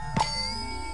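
A single metallic clang with a lingering, bell-like ring from the Sam & Max: Hit the Road video game, struck once near the start and fading over a steady ambient game hum.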